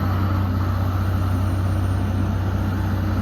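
A Challenger MT865B tracked tractor drives around a farm yard toward the road on a cold morning, giving a steady low diesel engine drone with a strong hum, loud and close and unbroken the whole time.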